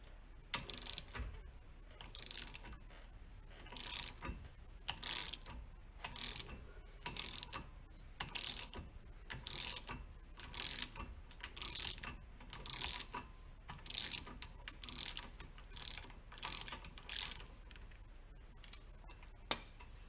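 A ratchet wrench loosening a front wheel hub bolt on a 1999–2004 Mustang GT, giving bursts of rapid clicking pawl ticks in a regular rhythm, close and fairly quiet, with no talk.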